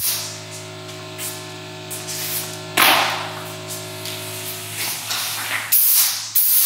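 Compressed air from an air compressor blows through a hose in sharp hissing bursts, loud and close, over a steady low hum that drops out partway through.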